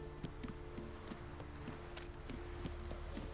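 Horse hooves clip-clop at a steady, quick pace as a mount rides off in The Witcher 3, crisp rhythmic hoofbeats close by over a low game background hum.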